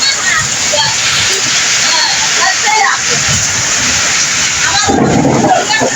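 Heavy rain with thunder in Jhenaidah pours down steadily, a dense rushing wash of water with splashing and occasional louder gusts.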